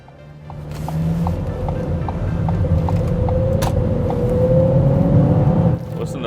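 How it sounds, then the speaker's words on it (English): A 2017 Ford Escape's engine idles with a low, steady hum and faint periodic ticking, heard from inside the quiet cabin, ending with a soft thump. "You can hear the engine"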